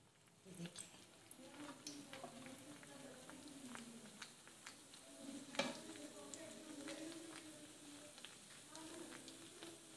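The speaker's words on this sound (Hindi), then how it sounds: "ये ऑयल जो है हमने इसके ऊपर इस तरह से डालना है, गरम ऑयल।" Hot oil poured over a besan naan, a faint crackling sizzle with light patter and scattered pops, steady over ten seconds with a low voice speaking underneath.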